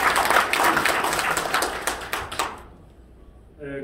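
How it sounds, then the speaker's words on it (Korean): Audience applause closing a lecture on behavioral economics and nudge marketing, a dense burst of many hands clapping for about two and a half seconds before fading into quiet, with a faint sound returning at the end. "우선 박수로 마무리."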